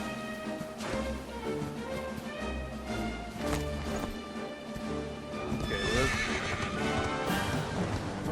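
A horse in the Dragon Quest XI video game clip-clops along at a steady gallop and whinnies, mixed with orchestral game music and effects, while a player speaks briefly.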